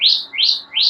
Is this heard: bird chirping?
yes